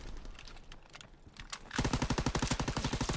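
STG assault rifle fire in a video game: after a stretch of scattered distant shots, a loud, close, steady automatic burst of about twenty rapid rounds runs to the end.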